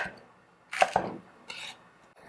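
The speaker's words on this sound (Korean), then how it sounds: "저 같은 경우에는 야채 크기와 비슷하게 이렇게 토막을 쳐요" Knife chopping a large green onion into chunks on a board while preparing a beef doenjang stew, with a few close, crisp strokes in quick succession and a short pause before another cut.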